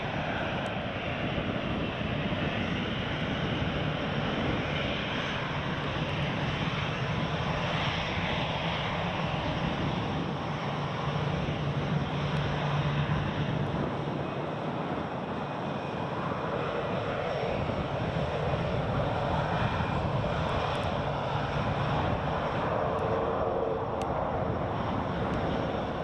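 A jet airliner doing touch-and-go circuits at Newcastle Airport rumbles steadily for a long stretch, a constant broad engine roar at moderate distance with no voices.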